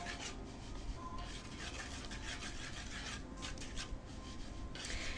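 Continuous dry scraping and rubbing as a non-combustible incense mixture is stirred by hand, steady and close, with short brighter gritty bursts and no talk.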